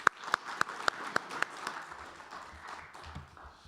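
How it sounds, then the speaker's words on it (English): Several sharp, evenly spaced claps ring out close by, then a softer spread of audience clapping follows at a community event hall gathering. "Another round of applause for"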